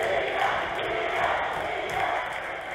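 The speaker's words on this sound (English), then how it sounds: "The crowd is chanting his name." Basketball crowd at a high school boys' game chanting a player's name, a dense mid-range roar of voices sustained throughout with rhythmic swells, heard from within the stands.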